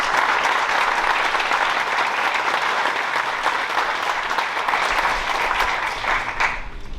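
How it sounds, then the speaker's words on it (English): An audience at a high school honor graduate ceremony gives loud, sustained applause, a dense roar of many hands clapping continuously before tapering slightly at the very end. "So go ahead and give him a round of applause as well."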